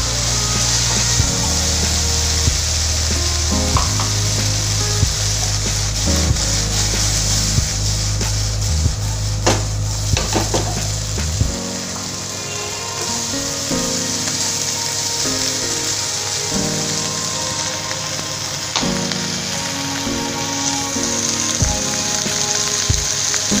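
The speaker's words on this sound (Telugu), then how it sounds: "దీనిలో ముందుగా కడిగి శుభ్రంగా కోసుకున్న బెండకాయ ముక్కల్ని వేసుకుందాం" Cut okra pieces sizzling and frying in a pan for a tangy lady finger stew, a steady crackling hiss with a low rumbling layer that drops away midway, continuing alone without talk.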